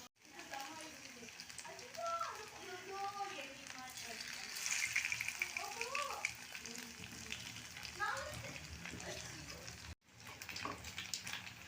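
Paneer 65 frying in oil over a low flame, giving a steady, close sizzle that runs through the whole stretch while a person talks over it.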